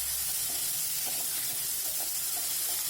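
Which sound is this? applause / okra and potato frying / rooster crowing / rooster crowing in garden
okra and potato frying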